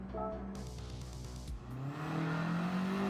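Volkswagen Scirocco engine in the Gran Turismo 7 racing game, a steady droning hum that rises in pitch as the car accelerates, with a brief dip midway, loud and continuous with no talking.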